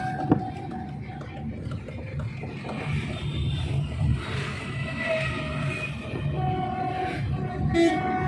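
A train crosses a nearby bridge over the Ganges in Kanpur. Its rumble and clatter carry through the whole stretch, a horn sounds, and there is some faint background noise.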